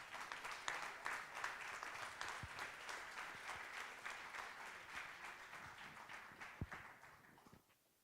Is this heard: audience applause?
yes